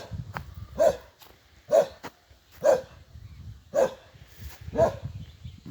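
Dog in a rural Serbian village barking five times at an even pace of roughly one bark per second, fairly close and clear over quiet outdoor background.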